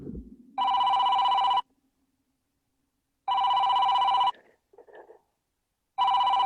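An electronic telephone ring repeats in regular long bursts with quiet gaps between them, loud and near, interrupting a live stock-market broadcast, with faint noises between the rings.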